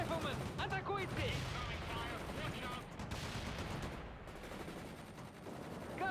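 Battle gunfire in the war game World in Conflict, dense machine-gun bursts and scattered shots over a constant rumble, with voices shouting orders through it.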